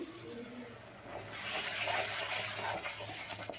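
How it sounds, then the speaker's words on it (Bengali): A little water from a rinsed spice bowl pours into a pan holding ground mustard, poppy seed and green chilli paste for a fish curry, a faint rushing splash swelling midway and then tapering off. "মশলা বাটিটা ধুয়ে আমি একটু জল দিয়ে দিচ্ছি"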